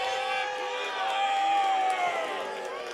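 A wrestling-match crowd cheers and roars steadily throughout, a dense, continuous wall of voices, with a commentator talking over it.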